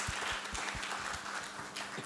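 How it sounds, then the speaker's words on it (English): Faint applause from an audience at a breakfast event for a panel, with soft, scattered clapping spread evenly over the moment and a hint of rhythmic claps underneath. "would you please give the panelists a big round of applause?"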